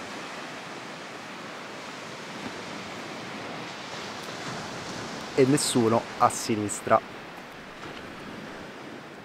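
Calm sea waves wash softly onto a deserted Danish beach, a steady faint hiss of surf, with someone speaking briefly over it partway through.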